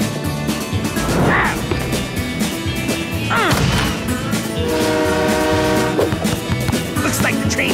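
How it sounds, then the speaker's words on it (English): In a soccer cartoon for kids, a train rumbles past and honks its horn amid busy music and sound effects, with a voice speaking briefly. "Looks like the train's on my side."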